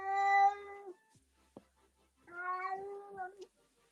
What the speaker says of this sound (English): Was that a cat? Yeah, that's her kitty.